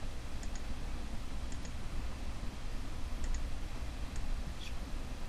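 Computer mouse clicks while working in ZBrush: a handful of light, sparse, close clicks over a steady hum of room and fan noise, with no speech.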